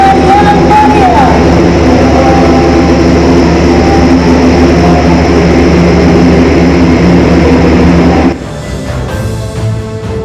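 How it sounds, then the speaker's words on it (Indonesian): Airbus A400M military transport aircraft of the Indonesian Air Force arriving at an air base, a loud sustained propeller-turboprop roar with deep engine drone that cuts off abruptly near the end, leaving quieter rumble behind. "Pesawat terbaru milik TNI Angkatan Udara Airbus 400M tiba di tanah air Senin pagi."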